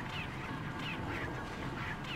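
A chicken in the video game Resident Evil 4 gives faint, repeated clucks at a steady pace over a constant background bed of game ambience.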